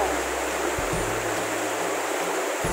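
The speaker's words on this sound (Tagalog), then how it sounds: "So, yun na yung falls." A waterfall gives a steady, dense rush of falling water that fills the whole clip at an even, fairly loud level, with low rumbles underneath and no talking.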